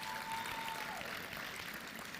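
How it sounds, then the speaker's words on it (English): Crowd applause for a sponsor at a philanthropy summit, a continuous wash of clapping at moderate distance, brief and even throughout. "A round of applause."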